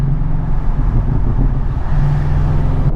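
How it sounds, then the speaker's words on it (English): A Porsche 718 Cayman GTS fitted with a Fabspeed Supercup exhaust, heard from inside the car as the turbo spools up. A loud, close, low engine drone swells and settles over a few seconds, with no talk. "And you really hear the turbo spooling up now."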